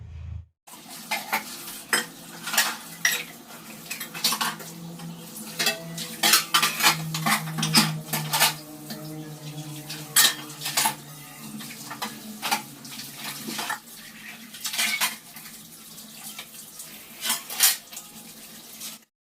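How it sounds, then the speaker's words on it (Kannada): Dishes and utensils being washed at a sink, with steel pots and cutlery clinking and clattering close up in an irregular rhythm over running water, with no talking. "ನೋಡ್ರಿ ಪಾತ್ರೆ ಎಲ್ಲ ತೊಳೆದೇನಿ"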